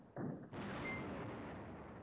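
A bombing strike in the Command Ops 2 wargame lands as a loud, rumbling blast that starts abruptly, swells once more and then sustains as a broad roar for the rest of the moment.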